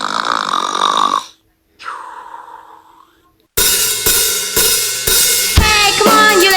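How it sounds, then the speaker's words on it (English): A cartoon character's long, tonal snoring is followed by a quieter, fading snore, then upbeat music with drum hits abruptly takes over. "Oh my god, you have long snores."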